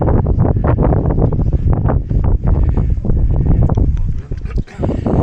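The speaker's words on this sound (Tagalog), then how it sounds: "So mahangin na dito, mahangin kasi almost nasa tuktok na tayo." Strong wind near the top of Sulfur Mountain buffets the microphone in loud, continuous gusty rumbles, with a brief lull near the end.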